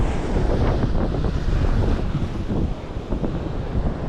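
Sea waves break on a Konkan shore during fishing, a constant, loud wash of surf with heavy wind buffeting the microphone and no voices.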